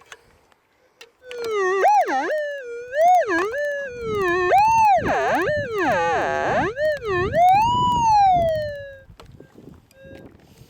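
A loud metal detector signal tone, warbling and rising and falling in pitch, wavers continuously for several seconds while gold prospecting before cutting off, with no talking.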